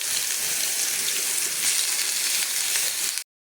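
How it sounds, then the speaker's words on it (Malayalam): Crushed shallots and garlic dropped into hot coconut oil, a dense, bright, continuous sizzle heard up close, loud and steady without voices, then cutting off abruptly. "ഈ ചൂടായ വെളിച്ചെണ്ണയിലേക്ക് നമുക്ക് ചുവന്നുള്ളിയും വെളുത്തുള്ളിയും കൂടി ചതച്ചത് ഇട്ട് കൊടുക്കാം"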